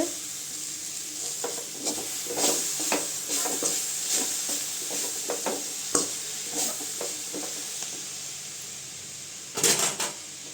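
Agathi greens with grated coconut stirred in a pan, a soft sizzle under repeated scraping strokes of a spoon, a few sharp knocks against the pan near the end, no talking.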